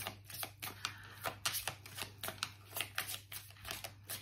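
A deck of tarot cards being shuffled, heard as rapid, rhythmic riffling bursts at low volume.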